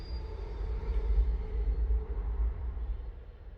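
A train passes near a waterside fishing spot with a low, steady rumble and a faint metallic edge. The sound swells and eases over a few seconds.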